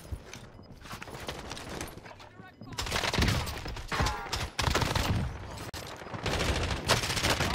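Bursts of rapid gunfire in the Warzone video game come in dense, loud volleys that build into heavier fusillades, with quieter gaps between them.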